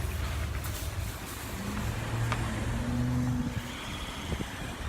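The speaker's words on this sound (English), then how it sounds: "there's a lot of cars, there's a lot of chaos right now, so Jason's going to just jump in" Busy city street traffic rumbles steadily as cars and trucks pass close by, with a constant low engine roar, a brief hiss like an air brake and a passing vehicle's tonal whine midway.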